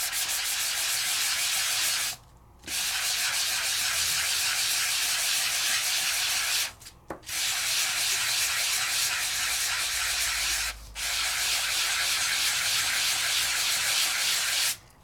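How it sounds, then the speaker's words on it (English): Steady abrasive sanding of a die-cut crafted paper piece, a continuous close hiss broken by three short pauses, with no voices. "and continue to sand."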